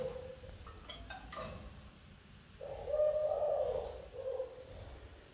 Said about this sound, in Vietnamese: Đây là chim bổi nha các bạn